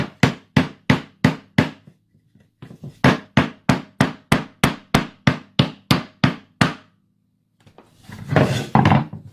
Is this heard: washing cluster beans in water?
no